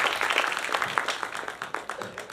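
An audience claps for a poet at a Gujarati poetry gathering, with dense overlapping hand claps that stay lively throughout the short burst.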